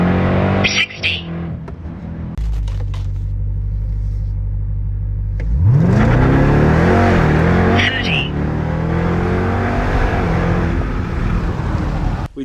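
A Dodge Durango with a 6.2L Hellcat pulley kit and factory flash accelerating hard from 0 to 60, engine rising in a loud climbing roar after a steady rumble, with people talking over it.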